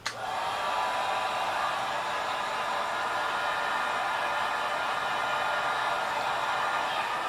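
A hair dryer on its low setting heats the mylar film on a pinball playfield, a steady, close, unbroken airy whoosh that holds level from start to finish with no talk.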